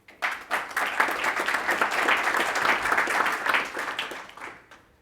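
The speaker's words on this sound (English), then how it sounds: "A round of applause for Summit Education." A crowd at a community healthcare workforce event breaks into sustained applause, a dense, steady wash of many hands clapping that swells quickly, holds for several seconds and then fades out.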